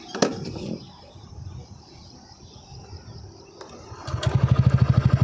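A TVS Ntorq XT 2023 E20 scooter sits quietly for a few seconds, then the starter kicks in and the engine catches, settling into a close, rhythmic idle putter.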